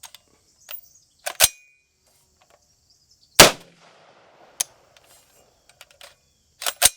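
Toy cap gun firing ring caps: several sharp, snappy cracks spaced irregularly, with one loud report standing out and quieter clicks of handling between shots.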